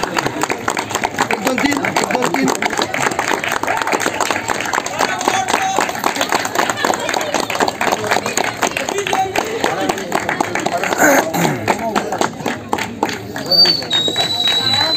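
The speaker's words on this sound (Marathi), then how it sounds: "सगळ्यांनी टाळ्या वाजवा. टाळ्या थांबल्याच नाही पाहिजे." A crowd at a building's Satyanarayan Pooja celebration claps continuously in a dense, steady patter, while voices talk loudly over the applause.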